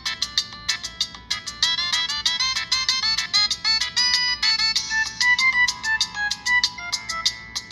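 A Virgin Mobile phone plays a bright melodic ringtone, a quick run of chiming synthetic notes that repeats loud and close with no voices over it.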